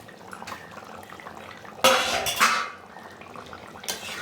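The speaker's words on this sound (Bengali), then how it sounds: "এখানে আমি ঢাকনাটা খুলছি" A lid lifted from a pot of chicken curry with ridge gourd, a brief metallic clatter and scrape over a background of low simmering.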